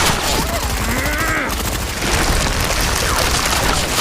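Rapid gunfire bursts and booming blasts from a monster film about a mutant land shark, dense and loud throughout with a brief pause midway, mixed with chaotic action noise.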